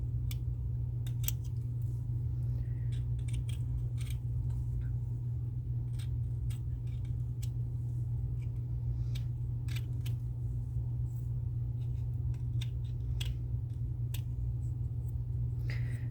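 Scissors trim the bottom edge of a cured epoxy or UV resin piece, giving scattered crisp snips and clicks over a steady low mechanical hum.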